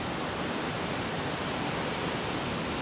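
Ocean surf washes onto the shore as a steady, broadband rush of water, soft and continuous with no voices.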